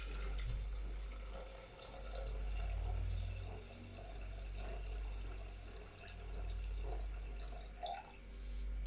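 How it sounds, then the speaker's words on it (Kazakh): Water trickles and pours steadily into a Thermomix bowl of lentil soup with salt and black pepper, a soft continuous splashing close by. "Енді су құямыз."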